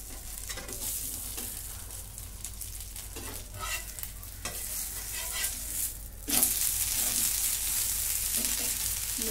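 Rice flour amboli roasting on a hot pan, with a steady sizzle and soft scraping as it is loosened and flipped, the frying growing louder after the turn; no one speaks.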